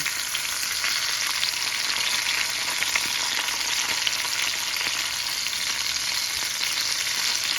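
Fresh sardines fry in a pan with a loud, continuous, even sizzle, a dense crackling hiss that holds steady throughout with no voices.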